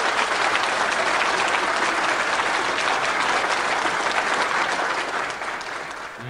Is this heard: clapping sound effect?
yes